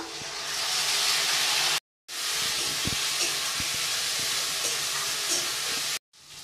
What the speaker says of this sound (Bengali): আলু লাল করে ভাজা হয়ে গেছে, দিয়ে দেবো বেটে রাখা মশলা